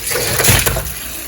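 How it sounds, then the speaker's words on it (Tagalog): Kimchi being washed under running water in a home kitchen, a loud, close, continuous splashing rush with a brief burst of sloshing partway through and no talking. "hugasan na natin ang ating kimchi"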